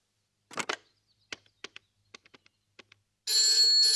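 A phone call being placed in a Hindi film scene, with scattered clicks and taps of dialing followed by a steady electronic ringing tone that starts near the end and continues.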